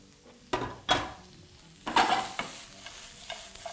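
Lamb stir fry with red chili, garden peas and baby corn sizzling in a pan as the ingredients are stirred, with a few sharp scraping strokes against a steady frying hiss, close and fairly quiet.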